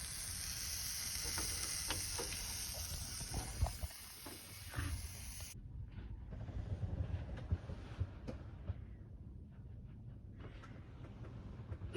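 A grilled cheese sandwich fries in a pan at a desert campsite, a steady close sizzle and hiss that turns noticeably quieter midway, with occasional light scraping and no talk.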